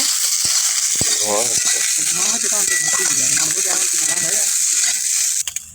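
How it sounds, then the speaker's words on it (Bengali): Okra tipped into a hot pan of oil with chopped green chilli, sizzling steadily and loudly throughout, with scraping stir strokes and clinks of a spoon against the pan over the frying hiss. "এবার ঢ্যাঁড়সটা দিয়ে দেব। একটু নেড়ে চেড়ে নেব।"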